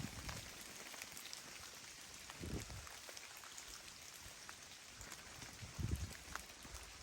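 Faint, steady rain patters on a foggy, breezy morning along the Appalachian Trail, with a couple of soft thumps and no talking.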